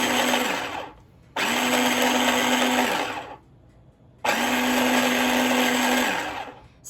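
Countertop blender mincing food for canning in three loud bursts of steady motor whir, with brief quiet pauses between pulses; a voice says a single word.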